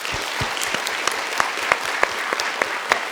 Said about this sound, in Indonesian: Kita boleh tepuk tangan untuk kekuatan hati Bapak.